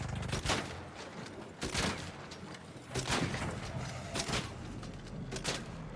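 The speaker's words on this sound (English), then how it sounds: "wait for the reload, 3 more shots" Gunshots from a weapon in ARC Raiders ring out as about five loud, evenly spaced blasts roughly a second apart, each with a short rumbling decay over steady background game noise.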